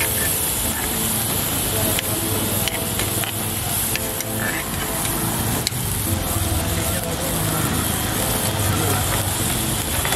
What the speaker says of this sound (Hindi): अभी ये कांदा डाला हमने, और ये शिमला मिर्च, कैप्सिकम, और टमाटर, और ये टमाटर भी डाल दिया।